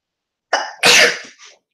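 A single sneeze, a sharp intake followed by a loud burst and a brief trailing tail, heard alone and close in a quiet room.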